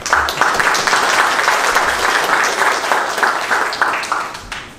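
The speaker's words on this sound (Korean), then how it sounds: "우리 박수로 환영해 주시기 바랍니다." Congregation at a Baptist church ordination service in Chicago applauding to welcome a pastor, a loud sustained round of clapping that fills the sanctuary before slowly tapering off.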